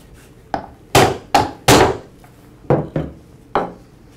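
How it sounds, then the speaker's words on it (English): Seven sharp knocks of a rubber mallet striking the metal shaft of a Ryobi string trimmer, close and loud, spaced unevenly with brief pauses between blows. "To remove it, I'll strike the end of the shaft with a rubber mallet."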